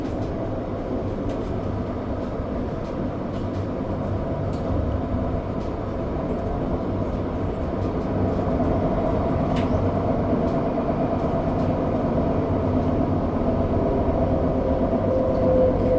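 Canberra light rail tram riding along, heard from inside the car as a steady low rumble and rolling hum of wheels on track, with faint clicks over a long continuous stretch.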